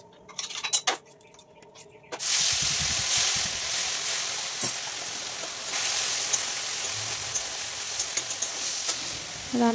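Oil sizzles steadily and loudly in a kadai after a few metallic clinks of utensils, the hiss continuing without a break with faint scraping and clatter.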